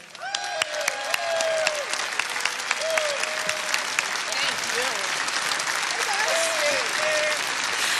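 Crowd at a political rally in Cedar Rapids, Iowa, applauding for a state representative, loud sustained clapping with whoops and cheers throughout.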